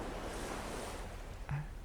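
Ocean waves wash onto a beach in a soft, steady surf hiss, fairly faint and with no voices.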